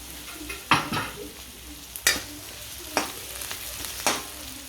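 Garlic and onion sauté in a pan with a steady sizzle, broken by about five distinct scraping stirs of a utensil, each a quick louder swish, close up.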